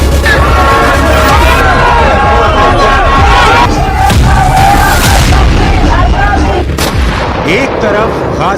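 A crowd of protesters fills a street in Israel with a loud, dense, continuous roar of voices, broken by heavy booming bangs throughout.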